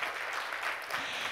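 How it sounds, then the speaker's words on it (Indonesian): A church congregation at an online worship service applauds, giving a brief, soft, even burst of clapping that sounds somewhat distant. "Beri tepuk tangan dulu buat Tuhan kita Yesus Kristus."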